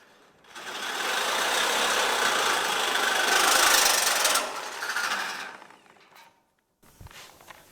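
A Sawzall reciprocating saw cuts through a metal subrail on a Model A with a loud, rapid buzzing rasp that lasts about four seconds, tapers off and stops, followed by a brief clunk.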